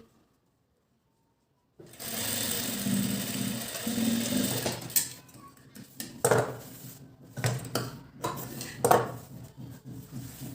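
A sewing machine runs a steady stitching burst along a blouse edge, then starts and stops in short bursts with clattering handling sounds in between, close and fairly loud.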